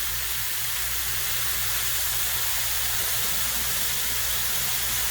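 Mushrooms cooking in a hot pan give off a steady, even hiss of sizzling and steam, close and unbroken throughout, with no talking.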